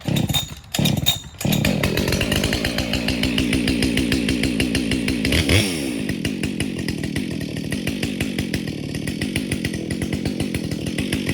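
Husqvarna 572 chainsaw warming up after starting, with a few sputtering pulls, then a loud steady idle that revs up briefly midway and settles back into a continuous rattling drone.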